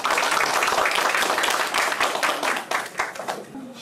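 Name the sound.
applause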